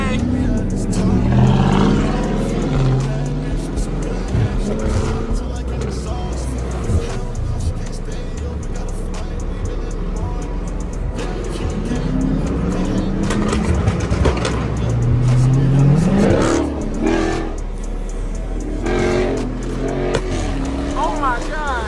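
A BMW M5 Competition accelerates hard, its engine roaring and rising in pitch through the gears. Excited voices talk over the engine noise.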